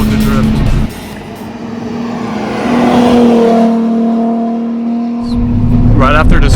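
A Nissan 370Z drifting on winding mountain roads, its engine droning loud and close, dipping off throttle and then climbing back as it revs again, with a voice over the engine.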